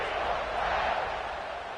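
Dense roar of a football stadium crowd cheering at a kickoff, a broad, steady wash of massed voices that stays loud and continuous throughout.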